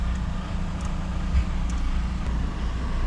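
A truck passes beside a car on an Italian road, its steady engine drone and tyre roar heard from inside the car, a continuous mid-loud rumble with faint brake hiss, no voices.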